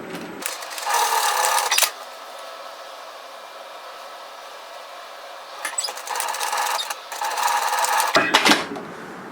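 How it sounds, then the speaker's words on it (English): A sewing machine stitches a fabric face mask in two close, loud whirring runs, a short one at first and a longer one later, with a quiet pause between them. "stitch from side to side."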